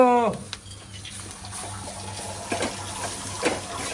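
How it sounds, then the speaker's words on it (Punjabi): Water is tipped into a burnt kadai while cooking, producing an ongoing rush of pouring and splashing liquid for several seconds, with a few faint sizzles and clatters. Voices are briefly audible near the start. "ਕੜਾਈ ਸੜ ਗਈ ਪਾਣੀ ਪਾ ਦੋ"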